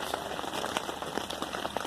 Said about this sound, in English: outside it's raining like crazy.